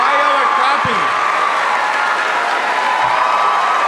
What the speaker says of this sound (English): I don't know why y'all are clapping.